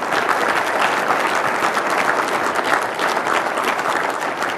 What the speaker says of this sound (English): So let's give all that staff a big round of applause.